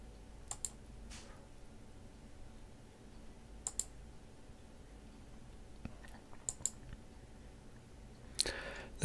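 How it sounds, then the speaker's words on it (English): A computer mouse clicks on download links, a handful of crisp, sparse clicks spaced a few seconds apart over a quiet room hum, with a slightly louder rustle near the end. "I will click each download link."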